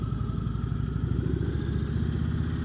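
An Indian Chieftain motorcycle in first gear rounding a tight roundabout, its low engine rumble steady and close with a throbbing, even pulse.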